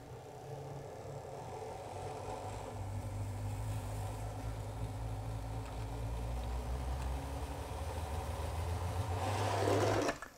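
Model railway locomotive Falcon running a speed test, giving a steady, quiet motor whir that rises slightly as it speeds up and holds a continuous buzzing drone for several seconds before stopping abruptly.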